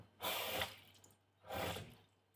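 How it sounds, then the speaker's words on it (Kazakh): Water poured in two short splashes into a cooking dish being seasoned, each pour lasting about half a second with a brief pause between, fairly close and otherwise quiet. "Кішкене су қосып жібереміз ал."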